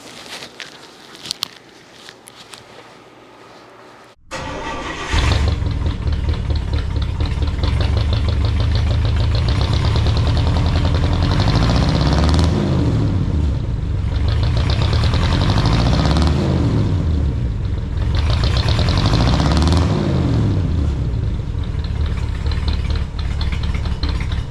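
A 1955 Buick Special Riviera V8 starts up after a few seconds of quiet handling noises, then idles loudly and steadily with a deep, throbbing rumble that swells and eases slightly as it runs.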